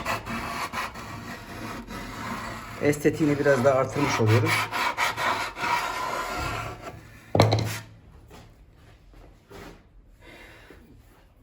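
Rough rasping strokes of sandpaper rubbing along a polyester edge, a few rhythmic passes, with someone speaking over the first half.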